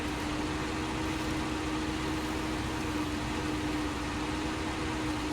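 A truck engine in Snowrunner, fitted with studded mud tyres, labours in snow while its wheels spin. It makes a steady low drone with a constant hum, moderately loud and unchanging, with no voices.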